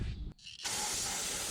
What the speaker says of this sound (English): this next process of spraying it down with brake clean